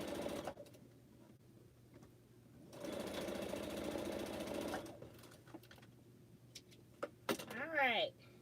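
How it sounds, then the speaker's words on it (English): A domestic sewing machine stitches pineapple quilt blocks in a long, loud, steady burst that ends abruptly, with quieter machine whirring at other moments and a person talking between runs. "Sew this one on here so I can get that one off"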